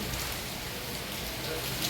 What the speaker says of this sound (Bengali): এতদিন গরমের পর ফাইনালি সেই বৃষ্টি